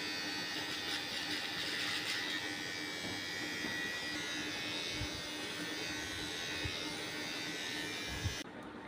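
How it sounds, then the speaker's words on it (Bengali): A Kemei KM-6541 electric shaver buzzes steadily while shaving a face, close and continuous with faint scraping bumps toward the end. "শেভ করে দেখাবো আপনাদেরকে।"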